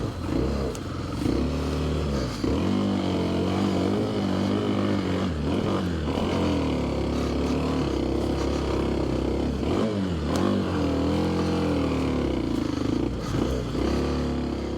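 Kawasaki KLX 300 dirt bike climbing a wooded single-track hill, its single-cylinder engine chugging and revving steadily throughout, close and loud, with some clatter from the rough trail.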